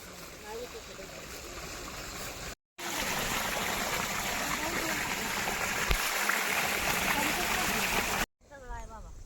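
Irrigation water runs through a channel in a farm field, a steady rushing flow broken by two short cuts, with voices talking over it in places.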